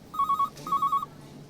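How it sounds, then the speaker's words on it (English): A telephone rings in a vet's waiting room in two short bursts of rapid electronic trills, separated by a brief pause, clear and close. "Ring, ring. The phone rings."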